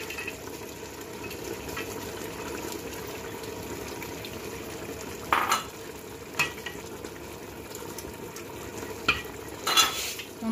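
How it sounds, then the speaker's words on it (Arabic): Meat fries in a pot with almonds, giving a steady close sizzle while a spoon stirs and scrapes the pot in a few louder bursts, with no talk. "دابا ملي تقلى ليا اللحم مزيان غنضيف ليه هاد اللوز يطيب معاه."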